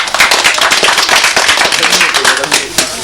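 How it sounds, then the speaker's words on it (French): A small crowd at a 1985 motocross race prize-giving claps in a dense, close patter for about three seconds, with a few sharp individual claps standing out. Background chatter runs underneath. "On peut l'applaudir aussi"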